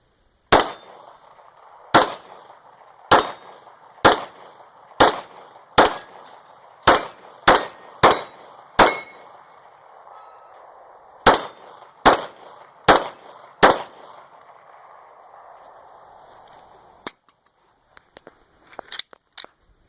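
A Glock 26 9mm Gen 4 pistol fitted with a Glock 19 magazine fires a string of about fifteen sharp, loud shots at an uneven pace, with a short pause partway through. Faint clicks follow once the firing stops.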